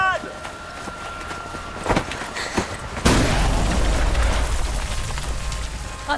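A grenade explosion in a TV series, a single sudden loud blast about halfway through that settles into a lingering rumble and debris-like hiss, after a few sharp thuds.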